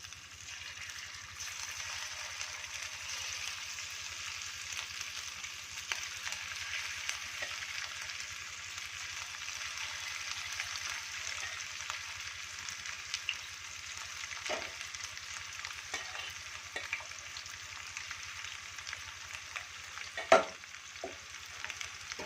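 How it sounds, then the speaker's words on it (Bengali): Boneless chicken pieces fry in hot oil, a steady, close sizzle and crackle running throughout with a few brief sharper pops and clinks near the end, no voices. "এখন আমি এই বোনলেস চিকেনটাকে এখন আমি দিয়ে দেব ভাজা করার জন্য"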